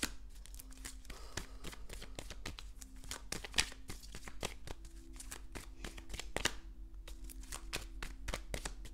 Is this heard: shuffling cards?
yes